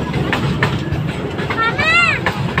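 The KA Serayu passenger train runs past near Cikampek station, a loud continuous rumble with rhythmic wheel clatter and a rising-falling squeal from the rails, heard close over faint background chatter.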